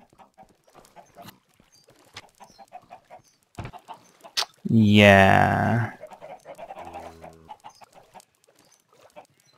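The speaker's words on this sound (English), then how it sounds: "Let's go check on the chickens." Chickens in Minecraft let out a short, loud burst of clucking and squawking in the middle, surrounded by quiet stretches of footsteps and faint game sounds, with a voice briefly speaking.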